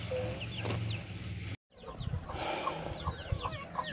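Bantam chicks and hens peep and cluck close by in a coop, with a short break of silence midway before the chirping resumes, busier and denser.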